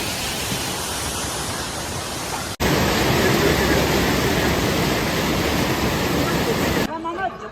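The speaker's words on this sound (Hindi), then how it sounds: "ये नीचे से ज़ोरदार झरना बह रहा है" A strong waterfall roars below a mountain trail on the Amarnath Yatra route. The water makes a loud, steady wash of rushing noise that fills the whole stretch, with a brief dip partway through.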